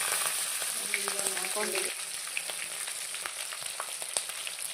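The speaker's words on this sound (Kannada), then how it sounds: "ಸಾಸಿವೆ ಕೂಡ ಚೆನ್ನಾಗಿ ಸಿಡಿತು" Mustard seeds, chopped green chillies and curry leaves sizzle in hot oil while drumstick-leaf bassaru is made Chitradurga style, a steady close frying hiss with a few light pops and a brief spoken phrase.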